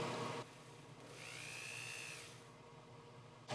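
A setting burr whines as it cuts into a 24K gold wedding band, a steady high-pitched drilling tone lasting about two seconds between quieter handling noise.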